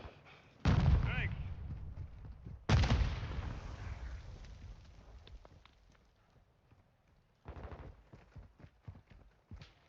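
A grenade explodes in a Warzone 2.0 DMZ firefight: two sharp, loud blasts with rumbling low-end decay, followed later by a burst of smaller cracks, with voices calling out between.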